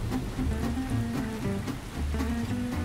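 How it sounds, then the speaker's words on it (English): Rain falls in Georgia around a house's front door, a steady, dense patter and hiss of drops on surfaces that continues without pause, fairly close and moderately loud. "good Georgia rain is always welcome"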